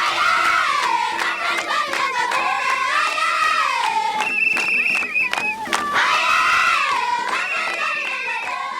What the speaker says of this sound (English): meet this dancing, clapping, singing wave of children